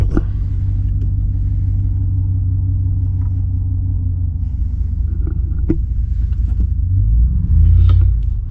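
Engine of a four-wheel-drive vehicle rumbling loudly and steadily up close on a coastal jetty during heavy rain, deep and continuous, with a brief surge of revving near the end and no talk.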